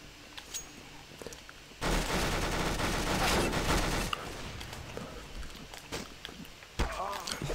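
Dense bursts of automatic gunfire in CS:GO played on PS3, sustained and loud for a couple of seconds and then tapering into scattered shots and footsteps, with a fresh burst near the end.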